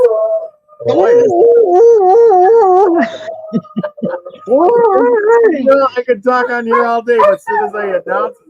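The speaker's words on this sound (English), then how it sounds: "that's my dog." A dog howls loudly in long wavering rising and falling tones, then yips and whimpers, close by with someone talking between and over the howls.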